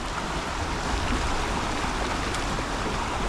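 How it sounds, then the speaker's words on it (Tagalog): A strong river current rushes over large rocks, a steady, loud broadband roar that runs unbroken for the whole stretch with no voices over it. "Ang lakas ng tubig oh."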